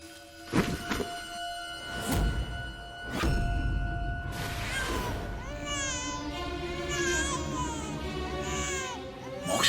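A baby cries from down inside a well, the wavering wails echoing and rising after a few dull thumps and softer sounds at the start.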